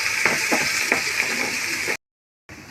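Spice paste for a paneer dish fries in a pan with a dense, even hiss and a few soft stirring knocks, then cuts to silence before the frying briefly resumes.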